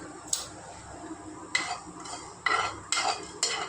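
Cumin and fennel seeds dry-roasting in a pan without oil, heard as a series of sharp metallic scrapes and clinks of a spoon stirring, about six distinct strokes over a quiet background.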